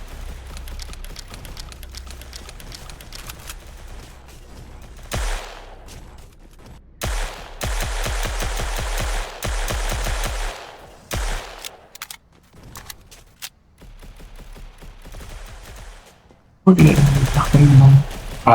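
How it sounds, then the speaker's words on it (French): Fortnite gameplay gunfire with a submachine gun and pump shotgun, bursts of rapid automatic fire broken by pauses and a loud close volley near the end, with a player talking between the shots. "il y a quelqu'un qui me tire dessus."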